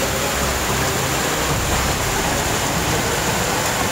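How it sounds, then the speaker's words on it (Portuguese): Floodwater from heavy rain pours like a waterfall past flooded wooden houses by an overflowing creek, a dense, unbroken roar that stays loud and even throughout with no voices. "Olha essa cachoeira aí, ó."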